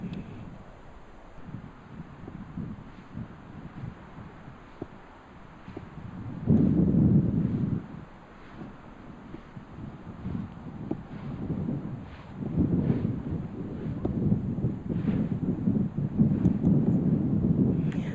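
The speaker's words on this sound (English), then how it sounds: "the wind is a bit against us today" Wind buffeting the microphone at a stone circle on the South Dorset Ridgeway, low rumbling gusts that swell and fade in waves, loudest in several strong bursts.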